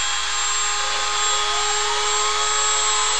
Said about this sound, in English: it's a very, very noisy tool. So the spindle is running.